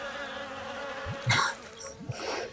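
Insects buzz in a video game, a short droning hum with a few brief louder whirs passing near, heard alone without talk.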